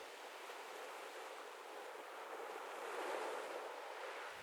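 Ocean waves breaking on a shore make a continuous broadband wash that swells slightly toward the middle, steady and moderately distant, with no voices.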